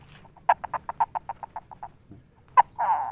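A person imitates a rooster chasing a hen with a quick run of about a dozen rhythmic clucking calls, then a sharper squawk and a longer drawn-out cry, close and fairly loud.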